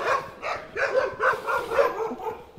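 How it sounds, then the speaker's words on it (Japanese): A large hunting dog barks repeatedly in an outdoor park setting on an island, about five or six rhythmic barks at moderate distance, with no talk over them. "あ、結構大型犬ですね。"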